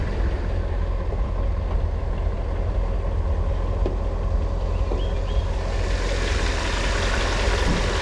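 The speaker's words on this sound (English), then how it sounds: "So really nice engine note on this car." A supercharged 5.5-liter V8 in a Mercedes G55 AMG idles with a deep, steady low rumble, heard alone and fairly close, with no voices.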